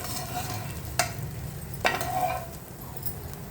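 Carrot and beans frying with grated coconut in a pan crackle softly, broken by two clear scrapes and clinks of a spoon stirring, close and without speech.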